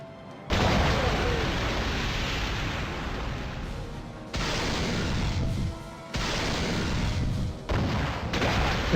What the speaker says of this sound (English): Explosion is ridiculous.